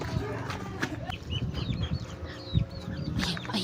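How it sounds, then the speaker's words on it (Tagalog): Chickens cluck in short, repeated bursts at close range over a busy background, with a few faint voices. "Ayan yung manok."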